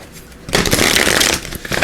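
Guidance cards for a numerology reading are shuffled in a loud, dense burst of papery riffling that starts after a quiet half second, dips briefly, then resumes close to the microphone with no voices.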